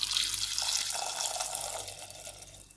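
Water pours into a pressure cooker of gooseberries for squash, a steady close splashing stream that fades slightly toward the end, with no voices.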